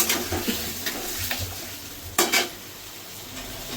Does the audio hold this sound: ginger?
yes